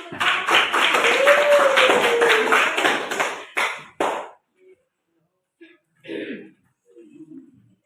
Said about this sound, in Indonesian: Marilah kita berikan tepuk tangan untuk